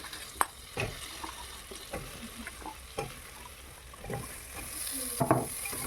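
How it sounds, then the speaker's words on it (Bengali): Potatoes fry in a pan with a quiet sizzle while a spatula stirs them, giving scattered scraping knocks over a low steady hiss, close by and fairly faint. "আলুগুলো দেওয়ার পরে এবার নেড়ে চেড়ে কিছুক্ষণ নেড়ে চেড়ে"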